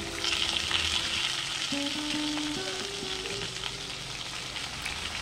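Hilsa parcels wrapped in bottle gourd leaves fry in hot oil in a pan. They make a soft, continuous sizzle with faint clinks and tones from the pan, and no one speaks.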